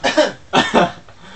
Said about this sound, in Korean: 왜 자꾸 기침이 나와?